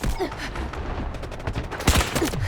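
Gunfire in the shooter Delta Force, with a run of sharp shots crackling through a dense mix of game noise, the loudest burst landing near the end, and no voices over it.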